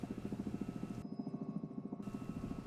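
A tourist helicopter tour approaching a helipad sounds out as a steady, close rotor thump of rapid rhythmic beats over a droning engine, continuous throughout with no talk.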